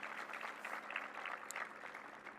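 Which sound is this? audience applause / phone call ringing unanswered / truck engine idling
audience applause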